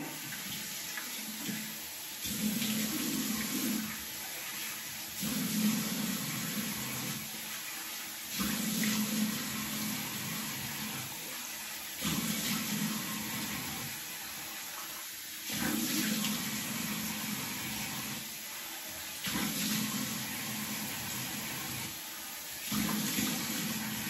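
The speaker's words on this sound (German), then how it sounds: "Jetzt noch einmal das Gesicht mit kaltem Wasser abwaschen." Cold water splashed onto the face at a bathroom sink after a wet shave: repeated close bursts of running, splashing water every few seconds, separated by short quieter pauses.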